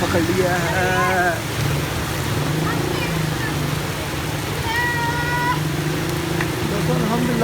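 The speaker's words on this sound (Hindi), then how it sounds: "बारिश ने और ज़ोर पकड़ लिया है।" Rain intensifying into a dense steady wash, loud and continuous, with faint distant voices and a few whistling tones drifting over the downpour.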